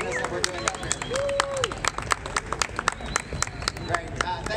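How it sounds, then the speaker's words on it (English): An audience claps for two robot operators after a demonstration of Sarcos Guardian XO units, brisk scattered applause at close range mixed with crowd murmur and talking voices. "Can we get a round of applause for our two operators"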